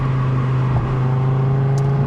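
Audi RS3 hatchback engine pulling hard in third gear, a loud steady drone with a strong low hum sustained throughout, heard from inside the car with no talking.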